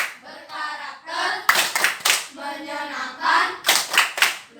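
A classroom group claps in rhythm while chanting together. Sharp, loud hand claps punctuate the sung, patterned chant throughout.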